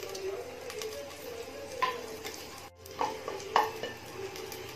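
Cumin seeds and a broken dried red chili sizzle steadily in hot ghee while a utensil scrapes and stirs the pan now and then, close by.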